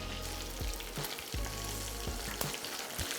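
Kale stew ingredients sizzle steadily in a hot pan, close and loud, with several soft thumps and scrapes as the food is flipped over.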